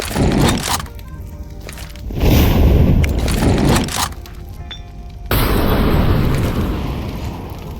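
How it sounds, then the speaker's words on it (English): Molotov thrown and burning in Counter-Strike 2, a dense, roaring whoosh of fire with a scraping burst around the throw, swelling in two loud waves that fill most of the stretch, with no talking. "you can see it mollies all the angles, so the guy cannot hide anywhere"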